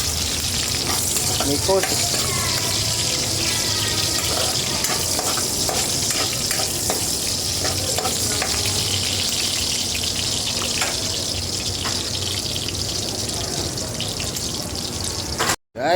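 Garlic and onion frying in a pan for pork afritada, a loud continuous sizzle with spatula scrapes and clinks, a brief word spoken early and an abrupt cutoff at the end.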